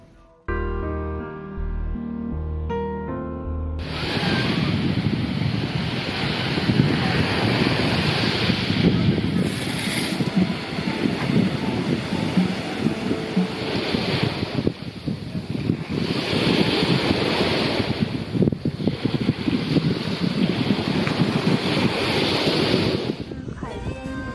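Sea waves and strong shore wind at the coast of Qinhuangdao, with steady loud surf rushing and wind buffeting the microphone continuously after a brief quieter opening.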